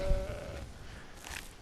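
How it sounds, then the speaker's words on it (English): Goat in the Skyrim video game giving a brief, faint bleat near the start, followed by soft game ambience and a quiet rustle. "I'm just going to finish off this goat."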